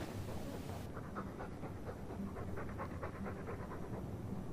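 Rhythmic, close panting of a dog in Dragon Age 2, a steady run of quick breaths under a constant game ambience.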